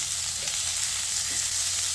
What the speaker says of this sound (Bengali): আলুর সঙ্গে বরবটিটাকে আবারও ভেজে নিচ্ছি